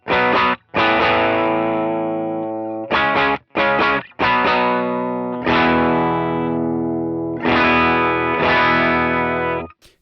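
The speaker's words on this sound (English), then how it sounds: "Let's keep opening up that gain a little bit." Distorted electric guitar with the gain turned up, ringing chords struck in short bursts and then held, loud and unaccompanied.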